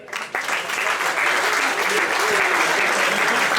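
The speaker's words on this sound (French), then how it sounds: "Applaudissements pour Tom Garnier." An audience at a women's handball club's staff and player presentation breaks into dense, sustained clapping that swells within the first half-second and stays loud and steady, with faint voices mixed in.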